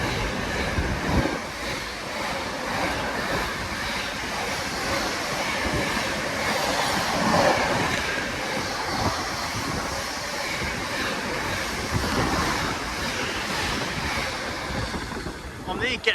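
An Avanti West Coast train bound for London Euston gives a continuous rumble and rushing rattle of rail travel, heard from on board or close by, steady with a few louder swells and faint background voices.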